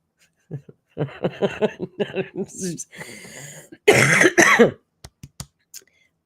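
A voice talks briefly, then a throat clear, a harsh burst of coughing, and a few short sharp clicks trailing off; close and fairly loud.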